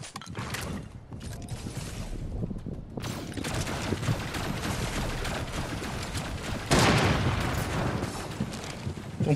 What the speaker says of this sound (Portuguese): Tem um cara atirando ali na ponta.